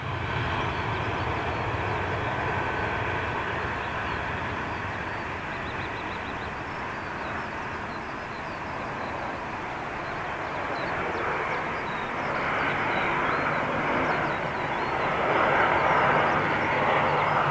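A Qatar Airways Dreamliner takes off from Manchester's northern runway, a steady distant jet roar that builds and brightens toward the end, with no talk over it.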